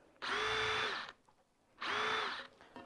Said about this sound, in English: we're going to take a drill and we're just going to drill holes